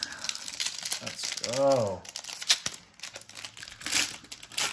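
A foil trading card pack crinkles and tears in short bursts close up as it is torn open, while a voice speaks briefly over the rustling.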